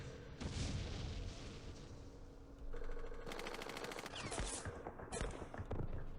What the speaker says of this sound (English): Oh, there's mortars in there too.